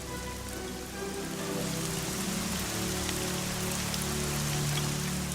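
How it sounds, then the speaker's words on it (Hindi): Steady rain pours down, a dense continuous hiss of drops on surfaces with no pauses, fairly loud and close. "बारिश होती रही"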